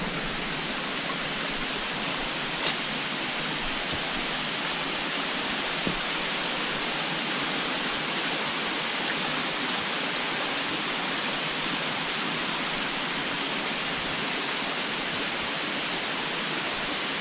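The Kunu Diya Pawwa waterfall roars as a steady, loud, unbroken rush of falling water that fills the whole stretch, with no voices.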